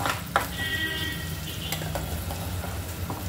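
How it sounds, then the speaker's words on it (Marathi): An onion and tomato masala paste fries in a pan for masala bhindi, giving a steady low sizzle with a few sharp scraping stirs and light clinks of the utensil against the pan. "आपल्याला मसाला एकदम खूप छान भाजून घ्यायचा आहे"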